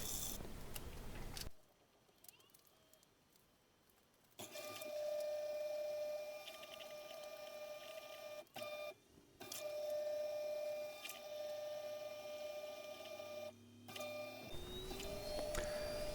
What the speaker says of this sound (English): the spin cycle ramps up to its highest RPM